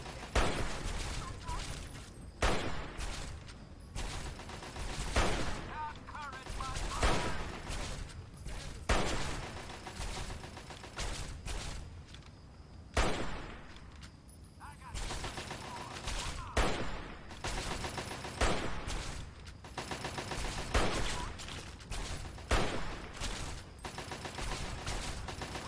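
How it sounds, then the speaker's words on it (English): Hunting rifle fire in Fallout 3: repeated loud, sharp gunshots at irregular intervals over nearly half a minute, with echoing tails and game background sound between shots. "I love the sound of the hunting rifle"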